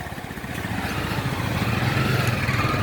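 A motorcycle rides along a road in Sylhet, heading from Khadimnagar tea garden toward Ratargul swamp forest. A close, steady engine drone with a throbbing low rumble runs throughout and swells slightly, with no talk.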